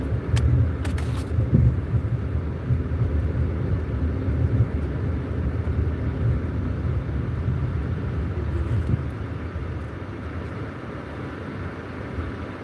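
Steady low rumble of a car engine and tyres rolling through a four-way intersection with other cars present, continuous and fairly close, easing slightly toward the end, with no talking.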